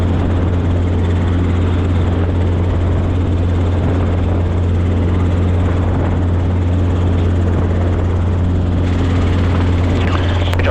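A Robinson R-22 helicopter runs steadily and loudly close by, its rotor and engine droning as a constant, unbroken hum the whole time.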